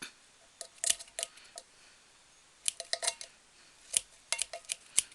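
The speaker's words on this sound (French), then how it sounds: "Oh, les ciseaux ne coupent plus du tout" Scissors snipping in small clusters of sharp metallic clicks, close and fairly quiet, with pauses between bursts while trimming material for a decorated tin can craft.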